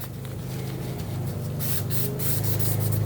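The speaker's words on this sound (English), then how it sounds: "wipe inside the rails, the inside of the rails" Cloth wiping along the inside of the slide rails of a Glock 43X handgun during cleaning, a steady close-up rubbing hiss with a few brighter scrubbing strokes toward the end.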